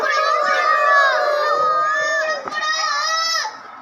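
Young preschool children in a classroom imitate a rooster together, a loud chorus of rising and falling crowing calls, repeated in two overlapping bursts.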